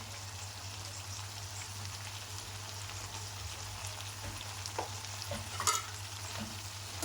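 Chole masala with tomato and salt being stirred in a pan, giving a steady low sizzle with soft scraping and a few spoon clicks near the end, close by and without speech.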